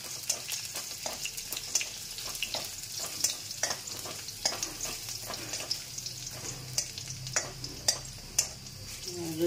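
Garlic fries in oil in a pan for a spinach, aubergine and potato curry: a faint, soft sizzle runs under repeated light scrapes and taps of a spoon stirring, close and quiet.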